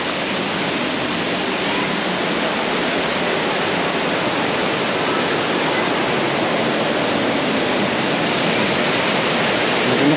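Water streams steadily from a cold spring in Aklan on a rainy day, a loud, even rushing wash that runs unbroken and close the whole time, with no voices.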